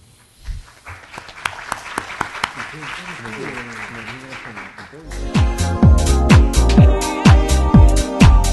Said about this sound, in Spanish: recibiéndolo con un fuerte aplauso